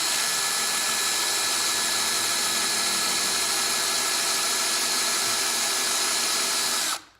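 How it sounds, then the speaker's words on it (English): A handheld drill rounding off a brass lightsaber switch cap, a loud, steady high whine that holds evenly for about seven seconds and then cuts off abruptly. "You definitely want to keep your drill level so that you have an even"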